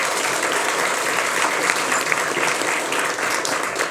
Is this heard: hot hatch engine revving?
no